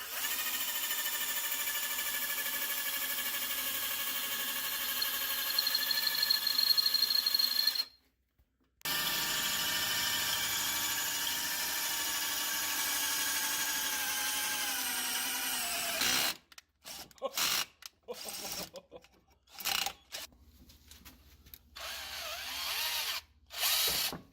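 A power drill with a bent new Harbor Freight bit whines steadily at close range, stops briefly, then runs again in short stop-start bursts.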